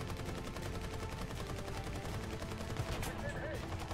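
A tank machine gun in War Thunder fires in a long, steady rattling burst of rapid shots under battlefield noise, moderately loud throughout.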